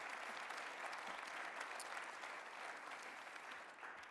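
A hall audience applauds the organisers at a sports awards ceremony in Akureyri, steady dense applause, soft and distant, continuing unbroken throughout.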